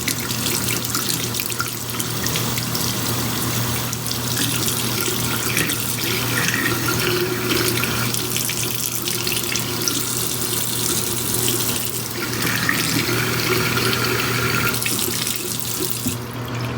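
Running tap water pours steadily into a sink while a makeup brush is rinsed free of Morphe cleansing balm, a continuous close splashing hiss with no pauses.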